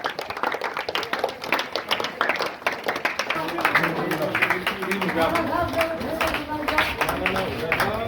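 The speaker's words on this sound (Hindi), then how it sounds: "देखिए तालियां बज रही है लगातार।" Schoolchildren keep clapping in welcome at a village school's inauguration of two new classrooms. The dense applause runs steadily for several seconds while someone speaks over it.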